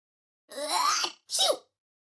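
A cartoon character in a mobile word game gives a two-part sneeze, a drawn-out breathy inhale followed by a short sharp burst, crisp and close with silence around it.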